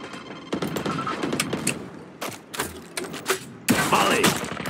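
Bursts of video game gunfire hit the player in a shooter match, sharp rapid volleys in several clusters with thuds, the loudest burst near the end.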